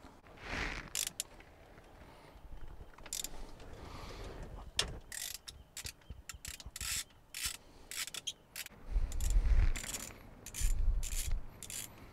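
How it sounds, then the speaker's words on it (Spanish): A hand ratchet works loose the steering wheel screws on a 1991–94 Toyota Tercel, with quiet rubbing and scraping, then bursts of rapid clicking and a few heavier knocks, faint and close. "ya que sacamos nuestros tornillos hacia afuera"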